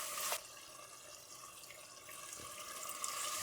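Hot water splashes steadily into a pressure cooker of mutton and spinach curry for a few seconds, a continuous close pour with a brief sharper burst near the start.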